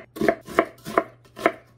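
A knife chops through tomato on a cutting board in four crisp, evenly spaced cuts, close and distinct with no voices.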